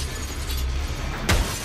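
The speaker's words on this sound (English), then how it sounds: "Getting her head smashed into a mirror over and over and over" A glass mirror shatters in a single sharp crash as a head is smashed into it in the horror film Halloween II, set against a steady, dense background roar.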